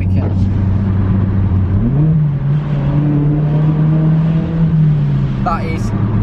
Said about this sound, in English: That is downshift to second for you, mate.